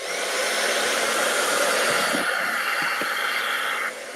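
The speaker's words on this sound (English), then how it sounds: "I'm about to grab my blow dryer that I use on my hair" A handheld hair blow dryer runs steadily at close range, a loud continuous whooshing roar that holds for about four seconds before dropping slightly in level near the end, with no talking.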